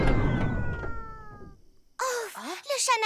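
Cartoon cat meowing in an animated French children's series, a short string of bright, bending meows after a rumbling slowed-down passage, close and clear.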